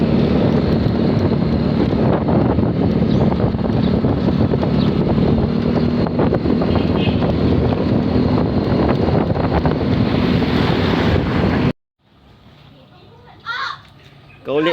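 A motorized boat engine runs loud and steady for most of the stretch alongside rushing wind and water noise, then cuts off abruptly, leaving quiet with brief speech near the end.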